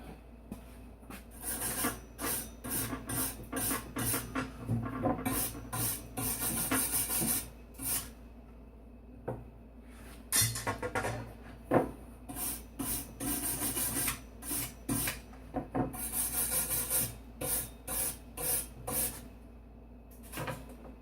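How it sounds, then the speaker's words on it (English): A wire brush scrubbing a fresh weld on a metal shrinker stretcher, loud rhythmic rasping strokes in quick bursts with short pauses between, close up and alone. "That pretty much concludes my welding for today. I'll just brush that off."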